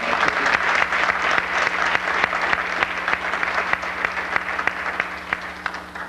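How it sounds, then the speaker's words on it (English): A banquet audience gives sustained applause, dense, steady clapping from a crowd in a room, continuing throughout at an even level. "Do give them one more round of applause."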